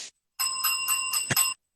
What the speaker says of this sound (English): Gotta ring the kiss and tell bell for that one.